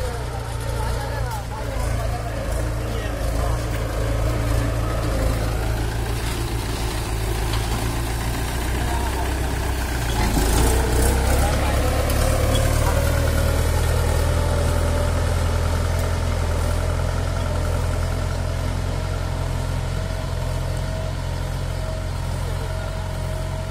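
A vehicle engine idles and runs steadily, powering a bund-forming farm machine used to build field ridges, with one brief surge mid-way and people talking over it.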